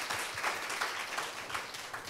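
Audience applause at a Korean disability-awareness talk show event, a steady crowd clapping that holds at an even level throughout, with no voices over it.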